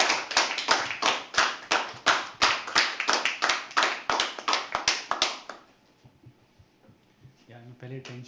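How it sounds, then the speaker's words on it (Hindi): Open mic poetry crowd at The Habitat clapping for a poet: loud, fast, even rhythmic claps for about five seconds, then it stops abruptly, leaving near quiet before a voice begins. "दिव्यांश के लिए एक बार जोरदार तालियां"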